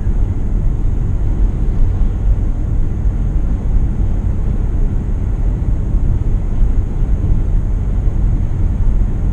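A Mitsubishi Outlander PHEV rolling over smooth new tarmac, heard from inside as a loud, steady low rumble of road and wind noise without pause or voices.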